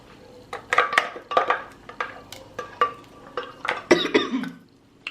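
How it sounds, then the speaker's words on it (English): A metal spoon scrapes Maggi seasoning out of its container in a home kitchen, making a series of short, close clinks and scrapes in uneven bursts with brief pauses between them. "I'm gonna get a spoon. And I'm gonna scrape this all out"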